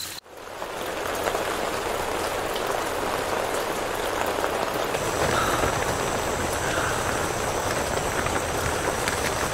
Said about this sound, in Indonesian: Tiba-tiba loh ini hujan turun.